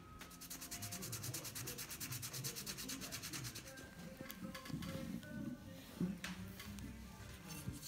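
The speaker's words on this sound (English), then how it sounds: "And then I'll get the hand sanding it just to get the smooth feel that I want." Hand sanding of 80CrV2 steel knife blades, a steady continuous rasping rub with a dense texture, close and moderately loud, running alone throughout.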